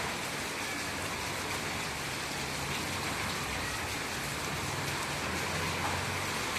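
Heavy rain pours steadily in Chennai's Balaji Garden area of Redhills, a dense, unbroken hiss of water hitting surfaces and flooded streets, loud and close with no voices.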